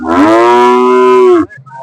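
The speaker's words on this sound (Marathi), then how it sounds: "बघू शकताय हे मोठ्या मापाची गाय" A large cow at a cattle market in Karad gives one long, loud, close moo lasting over a second, then falls silent with faint background noise.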